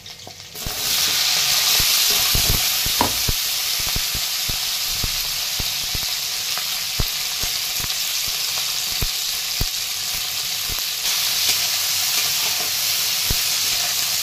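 Green chillies and garlic fry in a pan with a steady, close sizzle, while sharp ticks of stirring and spattering recur throughout. No one speaks.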